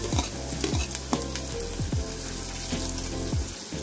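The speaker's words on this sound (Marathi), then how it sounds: "आता मी कांदा टाकते, तेल गरम झालंय, कांदा टाकते।" Onion frying in hot oil, a dense continuous sizzle with a few scraping stirs of a utensil in the pan, close and steady throughout.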